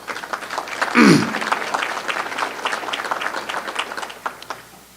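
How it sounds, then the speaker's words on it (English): Audience applause at a county State of the Economy address, broad clapping swelling quickly after a brief louder burst and holding steadily for several seconds before easing off at the end. "So give yourselves a round of applause."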